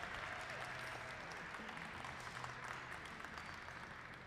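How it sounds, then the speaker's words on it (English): Quiet, distant applause from onlookers in a glassblowing hot shop after a finished piece, a soft, even clatter of clapping with faint low hum and murmuring beneath it. "let's give them a round of applause for finishing that piece"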